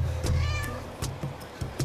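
A cat stuck up on an electric pole meows in drawn-out, wavering cries, close and fairly loud, with a few sharper noises breaking in over the last second.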